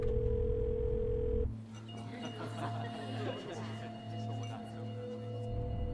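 A telephone ringback tone sounds on an unanswered call: a steady tone, then a low, evenly pulsing ring repeating several times, with a voice faintly underneath.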